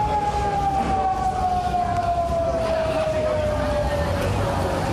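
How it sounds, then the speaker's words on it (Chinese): A flood-overflow warning siren wails in Hualien during a false alarm, a single loud tone gliding slowly downward over a constant rumbling background. "不过到下晡4点外，警报声又搁响"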